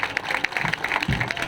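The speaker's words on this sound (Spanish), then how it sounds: "Palmas." Applause from an audience in a popular forum hosting a Peruvian congressman, a short burst of hand clapping with a few distinct claps rising above a crowd murmur.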